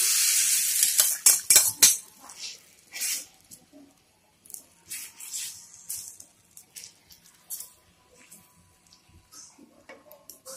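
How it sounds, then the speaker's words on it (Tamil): Vegetable omelette batter is poured onto a hot, lightly oiled stone, giving a brief burst of hissing sizzle followed by scattered clinks and scraping taps of utensils, close and intermittent. "அதில் நீங்கள் இப்போ மிக்ஸ் பண்ணி வச்சுருக்கிற இந்த ஆம்லெட்டை அதில் ஊற்றிடுங்க"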